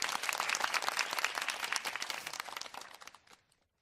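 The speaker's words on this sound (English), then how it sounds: "I'm gonna give you a round of applause, co-counsel" A round of applause rattles close to the microphone, quick scattered claps with a crinkly, crunchy edge that thin out and stop after about three seconds.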